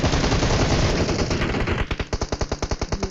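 Video game gunfire: a dense burst of automatic fire gives way to a fast, evenly spaced string of loud, sharp shots, with no voices.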